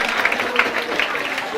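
Students in a lecture class give a brief, lively burst of applause, with dense clapping at close range.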